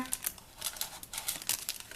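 Paper wrappers crinkle and rustle in a string of short, crisp bursts as portions of a millet-based coconut dessert are unwrapped, close and alone with no talk.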